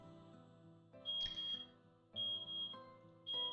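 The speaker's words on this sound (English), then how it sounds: "a beep notifies us that the tub is filled" An electronic notification beep signals a filled bathtub in the visual novel 9-nine-, three bright, evenly spaced tones, each held about half a second, over soft background music.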